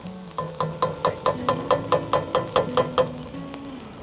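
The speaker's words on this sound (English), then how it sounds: "Give these onions a stir." Sliced onions and sausage sizzle in a pan while a spoon stirs them in a quick, regular rhythm of about a dozen scraping strokes over a constant background fry, close and with no talking.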